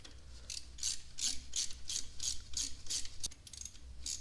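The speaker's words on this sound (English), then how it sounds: "So we're going to thread a nut back on." A jam nut being threaded onto a head stud of a Porsche 944 engine, heard as a steady series of quick ratcheting clicks in repeated close bursts.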